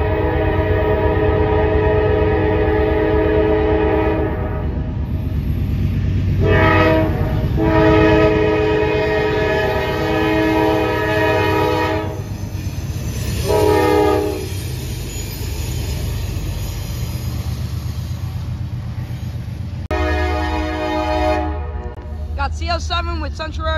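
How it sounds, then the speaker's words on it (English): A heavy coal train rumbles past steadily while its horn blasts in several long, loud tones, with a final short blast near the end. "Coal train."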